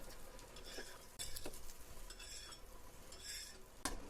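Coriander seeds are dry-roasting on a hot pan and being stirred, with a soft crackle, gentle scraping and a few light metallic clinks, close but quiet.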